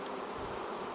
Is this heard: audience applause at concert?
no